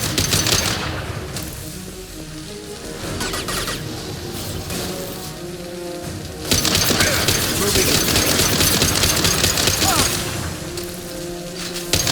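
Sustained heavy gunfire from the video game Mass Effect 2, with rapid automatic bursts, booms and bright crackling impacts forming a dense, loud barrage that intensifies midway through.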